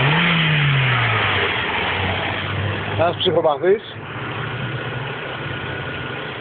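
A father's Opel car engine runs and revs, patched with a fix after a Mercedes part came loose, with a rising whine up front and a steady low hum throughout, while someone speaks over it.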